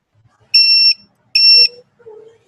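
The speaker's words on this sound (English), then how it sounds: "The meter will beep." A multimeter in continuity test mode gives two loud, steady high-pitched beeps, each lasting under half a second, then a fainter tone, in an otherwise quiet room.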